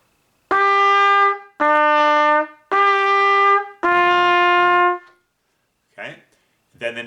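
Trumpet plays four sustained notes in steady succession, loud and close, with rich bright harmonics, followed by brief faint fragments near the end; no talking.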